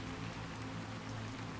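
Steady, percussive rain pattering evenly throughout, with a low constant hum beneath it, a soft continuous wash at a moderate distance.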